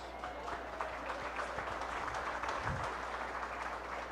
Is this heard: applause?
yes